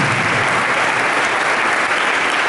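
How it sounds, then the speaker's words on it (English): A school audience at a sports achievers' felicitation ceremony applauds a student's zonal-level gold medal, a loud, dense, unbroken wash of clapping that fills the whole stretch. "Please give a big round of applause for her."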